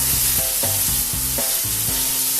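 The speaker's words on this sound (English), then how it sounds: "Now when you're searing mushrooms, don't mess around with them." Mushrooms sear in a hot pan seasoned with salt and pepper, a steady loud sizzle with a repeating pulsing tone beneath, close and continuous with no talk.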